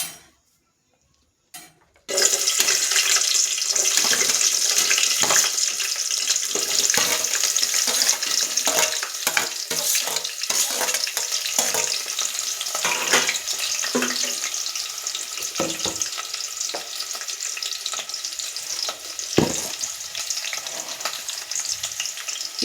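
Chopped onion and green chili hit hot oil with a sudden loud, steady sizzle after a brief quiet start, crackling continuously with occasional spatula scrapes and no talking.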